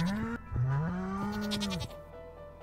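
Sheep bleating in the farming game Stardew Valley, a single drawn-out nasal bleat in the foreground with a shorter call before it, clear and close over a quiet background.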